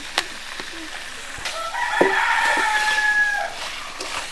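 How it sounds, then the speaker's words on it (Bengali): A rooster crows once in a rural village, a clear drawn-out call of about two seconds at moderate distance, with faint background clatter before and after. "মুরগার ডাক শুনছি গ্রামে"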